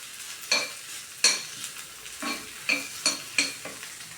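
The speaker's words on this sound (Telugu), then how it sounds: "ఉల్లిపాయలు వేగిన తర్వాత ఆలు యాడ్ చేస్తున్నానండి" Boiled potatoes stirred into fried onions in a pan for samosa filling: a handful of sharp spoon scrapes and knocks over a soft, steady sizzle, close and fairly clear.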